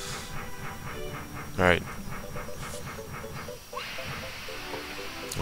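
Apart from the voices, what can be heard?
train moving in the video game Paper Mario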